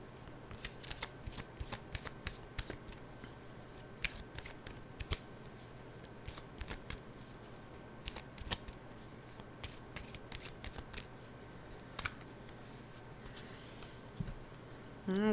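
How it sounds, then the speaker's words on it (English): Animal oracle cards are shuffled in a long run of soft, rapid riffling and flicking, steady and close throughout, with occasional sharper snaps. "Let's get our animal cards out here."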